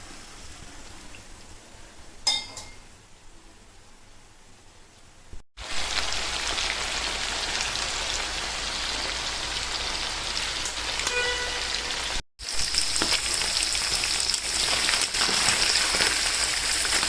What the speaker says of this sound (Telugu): 20 మినిట్స్ వేపుకోవాలి, సిమ్లో వేపుతున్నాను కాబట్టి.